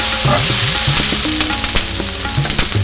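Okra sizzles loudly in a hot pan for a Fiji-style Indian bhindi fry, a steady close frying hiss with scraping stirs on top and background music playing.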